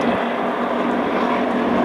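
Southern Knights display aircraft led by Peter Clements fly a tail chase and barrel roll over an airfield, producing a loud, continuous engine drone that stays steady throughout.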